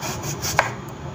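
A kitchen knife slices an onion into rings on a board, giving a single crisp cutting stroke over faint background noise, with no voices.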